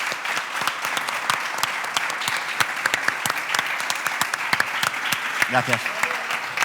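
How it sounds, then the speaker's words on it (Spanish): Audience applause at a masterclass event during a television festival in Lanzarote, sharp dense clapping sustained for several seconds at close range, with a brief spoken word of thanks near the end. "y un aplauso para él"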